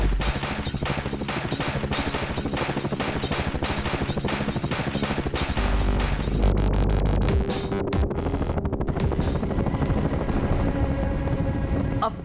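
Military attack helicopter flying, a loud steady rotor throb with rapid chopping pulses that shift and break up toward the end amid rumbling noise.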